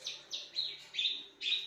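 Several bright, high bird chirps repeat in quick succession, fairly close and clear over a quiet background, with no talking.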